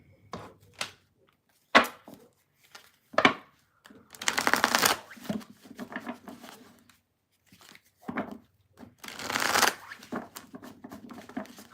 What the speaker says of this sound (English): I'm going to shuffle and move on to Virgo.